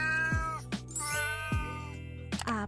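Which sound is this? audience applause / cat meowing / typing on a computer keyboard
cat meowing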